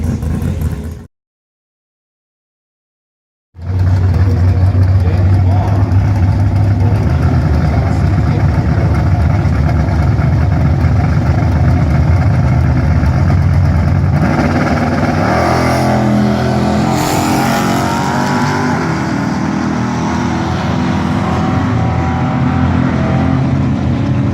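A 1967 Chevrolet Bel Air with an LS engine swap idles loudly at a drag strip, then revs and rumbles, its deep engine note continuous and close after a brief silence near the start.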